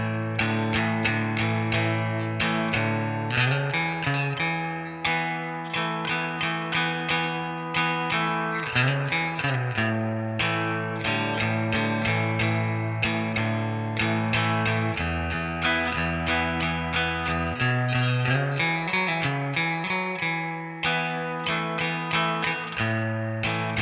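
Distorted electric guitar plays a chorus, a steady rhythmic chord pattern strummed repeatedly with crisp attacks, loud and close with no talking.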